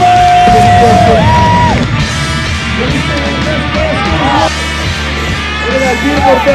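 A crowd at a skatepark session in South Jordan yells, whoops and cheers loudly and close by for skater Rune Glifberg, with voices rising and overlapping throughout.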